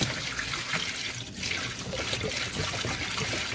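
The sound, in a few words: water emptied from Thetford 345 Porta Potti spout into sink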